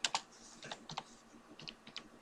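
Someone types on a computer keyboard while working in Adobe Photoshop, a short run of quiet, close, irregular key clicks with no talking.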